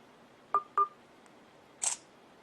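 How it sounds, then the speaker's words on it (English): A camera gives two quick focus beeps, then a single short shutter click a moment later, close and fairly quiet, with no talking. "press it the rest of the way to take the photo"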